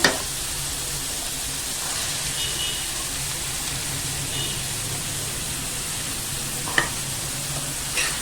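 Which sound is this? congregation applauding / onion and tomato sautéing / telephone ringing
onion and tomato sautéing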